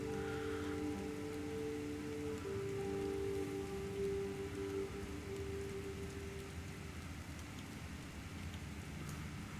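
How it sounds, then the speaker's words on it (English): Rain falls steadily as an even, continuous hiss in the game Fall of Porcupine, with soft sustained musical tones over it for the first several seconds. "well, the sound of rain is there."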